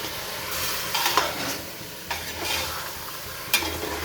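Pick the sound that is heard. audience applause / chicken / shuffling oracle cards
chicken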